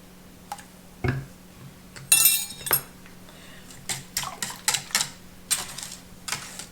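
Custard mix with vanilla stirred in a bowl, a series of clinking, tapping strikes of utensil against the bowl in irregular bursts, close and fairly quiet over a faint steady hum.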